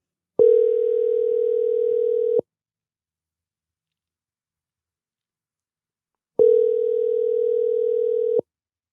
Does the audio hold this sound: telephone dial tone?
yes